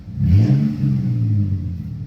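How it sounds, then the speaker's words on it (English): A Mazda RX-7 engine with a muffler delete revs loudly inside a barn, a deep throaty roar that swells and settles into a rumbling idle. "Just a muffler delete. It is resonating off the inside of the barn right now."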